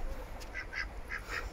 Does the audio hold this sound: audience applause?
no